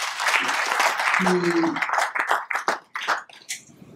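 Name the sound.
audience applauding Madame Sophie Gueye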